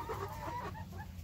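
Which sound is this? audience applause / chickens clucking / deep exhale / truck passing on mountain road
chickens clucking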